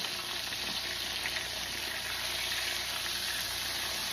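Chicken sizzles and crackles steadily in a frying pan for a fried chicken sandwich, a dense continuous hiss of hot oil close by with no voices.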